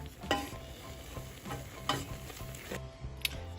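Breakfast ingredients are stirred together in a pot, producing intermittent scraping clinks and wet mixing sounds, close and fairly quiet, with a low background hum.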